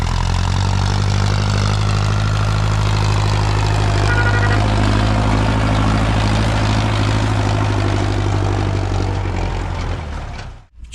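A large farm tractor with its lights on runs steadily in a field at dusk while sowing winter wheat, a loud, constant engine drone with a strong low rumble that cuts off abruptly at the end.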